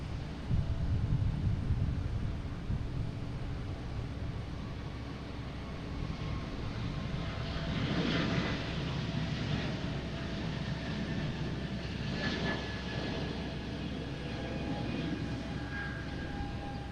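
A JetBlue Airbus A220 jet takes off at Boston Logan International Airport, giving a steady, broad engine roar with wind rumble that holds at an even level throughout, with no talking.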